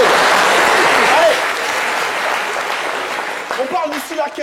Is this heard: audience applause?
yes